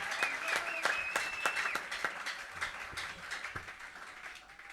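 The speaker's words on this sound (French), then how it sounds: "Acclamons très fort pour Jésus-Christ." A church congregation at a French-language Sunday healing service claps and applauds together, a dense burst of hand claps that gradually fades out near the end.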